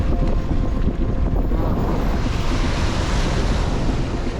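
Sea waves and gusting wind at an anchorage bay on the North Sea coast near Lindisfarne make a loud, unbroken rushing roar with wind buffeting the microphone throughout.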